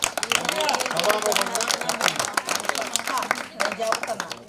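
An audience claps at an outdoor political campaign gathering in Ongole, with scattered, dense claps mixing with a speaker's loud voice throughout.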